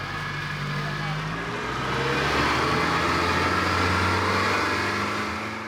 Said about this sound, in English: He cranks up the engine on the small skiff, which is loaded with bags of oyster shells.